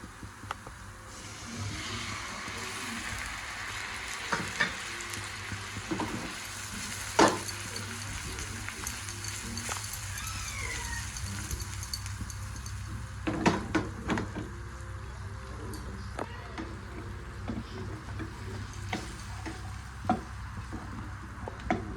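Ground masala paste roasts with onion in a pan, a continuous low sizzle broken by occasional spoon taps and scrapes from stirring.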